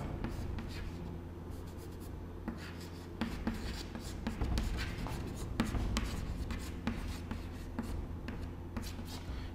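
Chalk or marker writing on a classroom board during a history lecture, a steady stream of quick close scratches and taps over low room hum.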